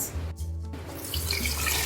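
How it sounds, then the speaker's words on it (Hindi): Water poured into a cooking pot holding beef trotters for paya, a steady splashing stream after a brief pause, close and moderately quiet. "4 गिलास पानी डाल देंगे"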